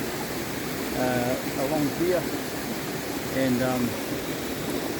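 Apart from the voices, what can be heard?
small waterfall in New Zealand hills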